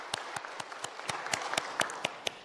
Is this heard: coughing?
no